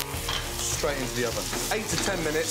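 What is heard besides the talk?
chicken breast frying skin side down in pan with butter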